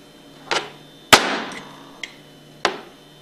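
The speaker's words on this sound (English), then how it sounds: "Take the flat blade of a screwdriver and place it against the inside of the steel casing of the seal and tap it out with a hammer." A hammer taps the flat blade of a screwdriver set against the steel casing of a roller pump seal, giving four sharp metallic knocks at uneven intervals, close and clear with short ringing decay.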